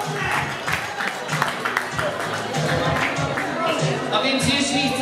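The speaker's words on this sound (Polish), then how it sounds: "Też wielkie brawa" Crowd clapping and cheering for a DJ at a party in a bowling club in Włocławek, a loud dense burst of applause with shouts and voices mixed through it.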